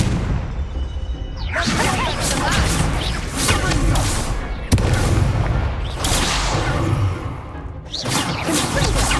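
Incendio fire spells cast in Hogwarts Legacy, heard as loud repeated whooshing bursts of flame with crackling blasts, three main surges separated by short lulls amid combat noise.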